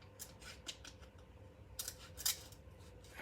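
A small knife snipping and cutting in a few short, sharp bursts, with crisp slices spaced irregularly over a quiet background and no voices.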